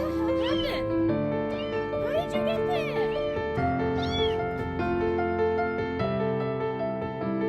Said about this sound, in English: we have yet another cat that got trapped inside a toilet